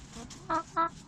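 Two short clucking calls from hens sharing a coop with a newly introduced rooster, close and moderately loud against quiet background.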